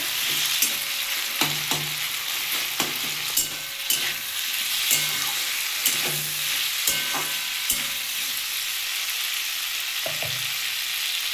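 Potatoes and tomatoes fry in a pan for a paneer and okra dish, giving a constant close sizzle broken by regular scraping stirs about once a second.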